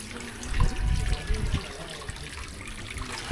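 Cool water trickles steadily down a shallow drain-like channel at a new riverside campsite, a continuous close babbling with a few low splashy bursts early on and no voices.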